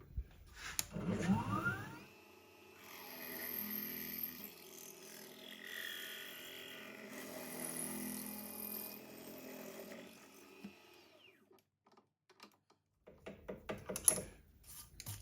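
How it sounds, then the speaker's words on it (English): A drill grinds into a metal engine cylinder with a whining, scraping mechanical noise that rises and falls, fading near the end before a few sharp clunks. "So I'm going to drill this out a little faster than I normally do."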